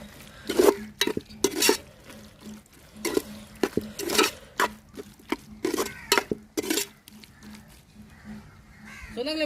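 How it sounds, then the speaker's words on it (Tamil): Boiled beef, mint and coriander stirred together in a biryani gravy, a metal spoon scraping and clanking against the pot in repeated bursts over a light sizzle. "இப்போ எல்லாத்தையுமே மொத்தமாக கிளறி எடுத்துக்குருவோங்க"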